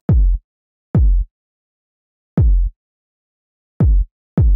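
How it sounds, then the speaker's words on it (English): Five punchy Afrobeat kick drum hits programmed in Logic Pro X, each a booming low thump with a quick decay, spaced irregularly with silence between them and no other instruments. "I first played my kick using Afrobeat."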